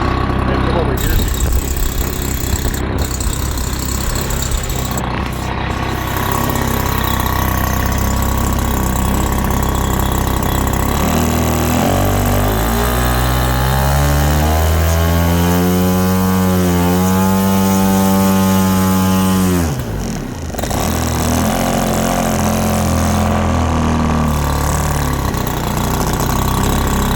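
A giant-scale F8F Bearcat model plane engine runs loud and close, idling roughly, then revving up and back down before a brief cut and restart, with voices faintly underneath.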